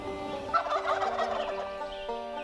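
A wild turkey gobbler in a Colorado forest at dusk gives a single rapid, rattling gobble lasting about two seconds, moderately close and clear against a quiet background.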